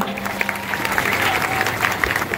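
Loud applause from a crowd at a women's community gathering, many hands clapping steadily throughout with cheering voices and murmurs mixed in.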